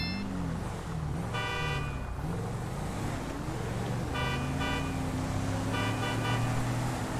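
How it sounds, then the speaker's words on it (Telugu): Several electronic-sounding car horn honks in the video game GTA 5, in bursts over a steady engine drone, repeated at intervals; the honks are loud and synthetic. "నేనైతే హారన్ కొడుతున్నా"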